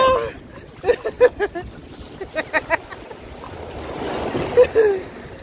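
Rough sea surf washing around a kayak near a beach in Montego Bay, with broad wind and wave noise building toward the end, while people nearby talk and shout in short bursts over it.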